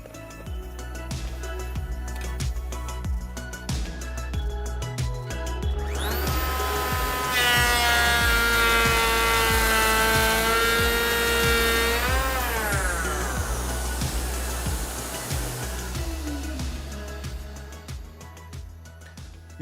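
A Festool EHL65EQ one-handed electric planer shaves timber: its motor spins up to a loud, high whine, holds for about five seconds while cutting, then winds down, with clattering handling noise before and after.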